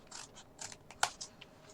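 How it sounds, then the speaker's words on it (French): Scissors cutting along the folds of a paper ribbon box, a few quick soft snips and crisp clicks close by, with no voices. "Ce rectangle, on va couper donc sur les plis qu'on vient de faire."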